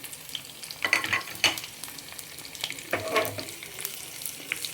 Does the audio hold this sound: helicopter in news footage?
no